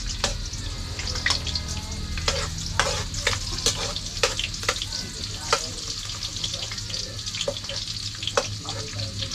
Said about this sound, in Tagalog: Lutuin muna natin ng konti ang ating sibuyas at bawang.